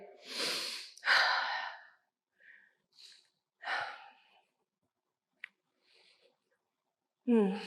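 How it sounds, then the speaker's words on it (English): During a yoga session, a few audible breaths and sighs come one after another in a quiet room, separated by silence, with a final sharp breath at the end. "Take a deep breath in."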